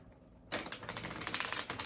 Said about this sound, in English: Let me just give the cards a bit of a shuffle.